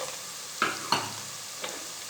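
Crushed red chilli, salt and spices lightly frying for chicken karahi, a soft steady sizzle broken by two close utensil scrapes and a fainter third, with no talk.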